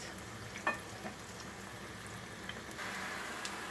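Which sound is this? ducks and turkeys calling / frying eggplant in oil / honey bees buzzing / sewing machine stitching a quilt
frying eggplant in oil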